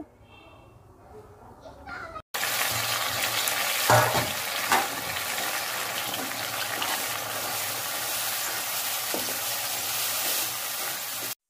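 Spice paste with turmeric, chili and five-spice paste frying in a pan for duck curry, a sudden loud steady sizzle after a quiet start, close, with stirring scrapes and faint voices underneath.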